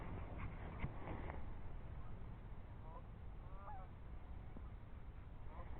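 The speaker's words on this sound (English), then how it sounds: "There's some more geese coming in." Distant geese honk in scattered calls over a steady rush of wind or outdoor noise, faint and far away.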